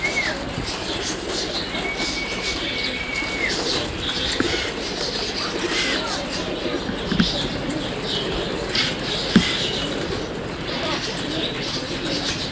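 Roller pigeons coo in a steady low murmur at close range, with light rustling and a faint tonal whine running underneath.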